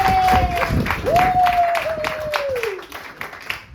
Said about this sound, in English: That's a great round of applause for Kat